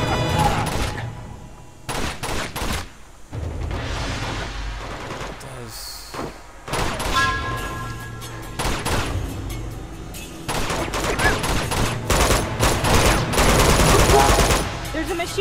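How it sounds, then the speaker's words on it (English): Video game combat in Uncharted 2, with repeated bursts of close, loud machine gun and rifle fire spread across the stretch, broken by short pauses and scattered impacts. "There's a machine gun over there."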